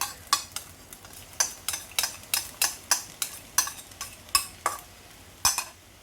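Thai pineapple fried rice with wet sauce is stirred in a pan, a spatula scraping the metal in a steady rhythm of about a dozen sharp, close scrapes over faint sizzling.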